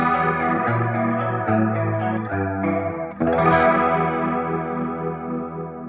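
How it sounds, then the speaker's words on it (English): Electric guitar picked with a metal pick through a chorus effect, ringing shimmering notes and chords with a strong, slightly distorted swirling tone and a fresh attack about three seconds in. "I think the metal pick with a chorus would give it a real crystal sound."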